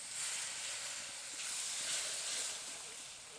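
Water poured onto hot spice paste with Kashmiri chilli powder, cooking for a cauliflower korma, gives a steady, broad hiss of sizzling steam that swells and fades slightly, close and without talk.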